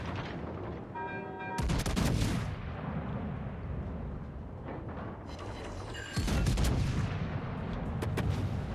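A naval gun salvo fires in the World of Warships video game, with two heavy booming blasts that roll into long rumbling tails over a constant low background roar.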